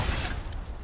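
Distant sniper rifle gunfire in a shooter video game, one dull boom at the start fading into a rumbling tail, with no voices.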